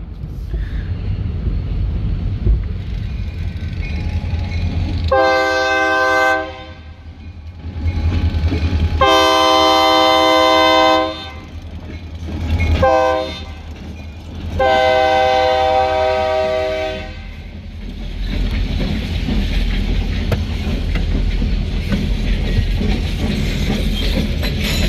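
Freight train passing while being chased, its horn blaring in several long blasts of rising and falling length over a constant low rumble of the moving train, loud and close.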